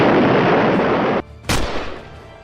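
A loud, bomb-like explosion sound effect in a Raj Comics audio comic: a sustained broadband roar that cuts off abruptly, followed after a brief gap by a second sharp blast that trails off.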